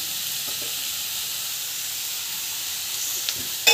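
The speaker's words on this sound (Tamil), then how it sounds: "நல்லா வந்து இது வதக்கிக்கோங்க" Beetroot poriyal sautéing in a pan gives off a steady, even hiss of frying with a couple of faint stirring knocks and a brief clatter at the end, close-up, with no talk.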